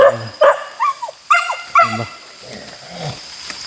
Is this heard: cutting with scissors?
no